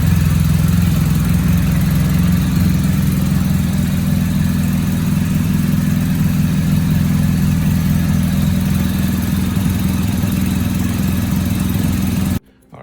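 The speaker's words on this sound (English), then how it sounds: "running the engine for about 3 minutes" A 2019 BMW R1250 GS motorcycle engine idles continuously with a low, even rumble, close and loud, then cuts off abruptly near the end.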